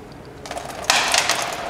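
Wrench clicking and metal scraping as a brake caliper banjo bolt is loosened on a 2005 Honda Accord, a brief close burst of ratcheting, gritty mechanical noise that grows louder partway through.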